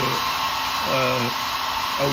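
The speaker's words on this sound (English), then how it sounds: "by hitting it with the hair dryer, it dries it out" A hair dryer blows steadily up close to dry paint on a carved wooden cardinal ornament, a constant loud whirring hiss with someone talking under it.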